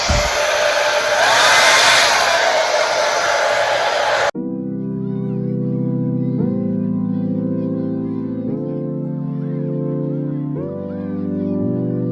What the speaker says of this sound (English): And then I am going to start blow drying my hair.